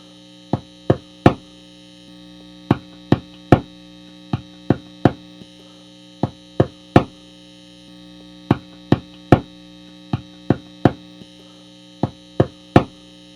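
Someone taps on a P.A.F. guitar pickup, producing sharp, bright clicks in small clustered groups through an amplifier, with a steady mains hum running underneath throughout.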